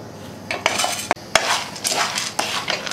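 A utensil scrapes and clinks against a pan as okra seeds are lightly roasted and stirred, with sharp metallic knocks over a soft sizzling hiss, loud and close with no voices.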